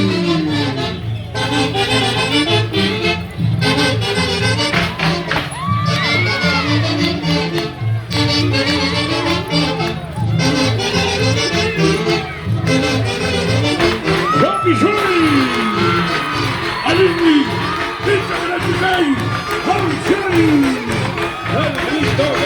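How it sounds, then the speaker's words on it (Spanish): A crowd of supporters of a Chapis dance group at a festival performance bellows a loud war cry, with rhythmic chanting, shouts and whoops over a steady background of cheering and voices. "El grito guerrero de los Chapis."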